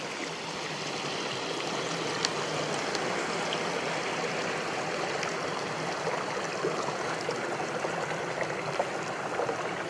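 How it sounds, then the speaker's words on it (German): Steady flowing water in a small water park set within the grounds at Bungsberg near the Baltic coast, a continuous close splashing and rushing stream that holds an even level throughout with no voices. "Und hier mittendrin in dem Gelände ist dann dieser kleine Wasserpark."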